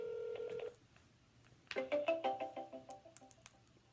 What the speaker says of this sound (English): we're gonna dial now